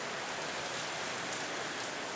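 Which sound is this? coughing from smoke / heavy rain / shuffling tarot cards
heavy rain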